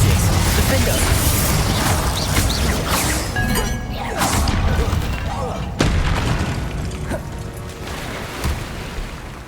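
Confringo blasting spells explode repeatedly in the video game Hogwarts Legacy, giving loud, booming blasts with crashing debris and whooshes. The explosions come in a continuous, dense barrage, with a sharp hit partway through.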